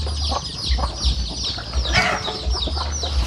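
Chickens cluck in short bursts close by, with scattered bird calls and a brief louder squawk partway through.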